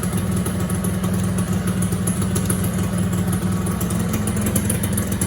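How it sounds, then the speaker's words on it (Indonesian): A Suzuki Satria motorcycle with its stock exhaust runs steadily with a low, throaty rumble and slight clatter. It stays close and loud throughout, with no clear rise in revs. "Kita generin lagi, kita dengerin suara gederannya si knalpot standar."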